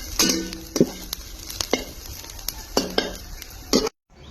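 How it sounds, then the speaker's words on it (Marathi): Chopped onion sautéed in a pan for a village-style Bombay duck curry: a steady sizzle broken by repeated metal spatula scrapes and clinks against the pan, close up, ending abruptly in silence. "आणि कांदा पण बरोबर परतून होईल"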